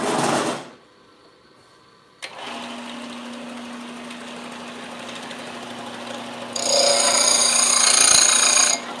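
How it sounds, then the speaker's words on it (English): A belt sander flattens a part of a chainsaw chain, a steady grinding drone with a constant low hum that runs for several seconds and grows brighter and louder near the end as the metal meets the belt. "Then I take it to my belt sander."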